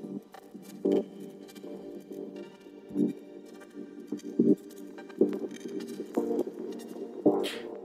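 Synth track layering reverb with a granular echo cloud texture: a sustained low pad pulses in repeated swells while sparkly, scattered high grains drift above, ending in a brief bright shimmer; no voice.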